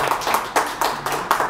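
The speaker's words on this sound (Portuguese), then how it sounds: "Ah, mais uma salva de palmas." A small round of applause sounds as a few rhythmic, evenly spaced claps, close and moderately loud, with no one talking.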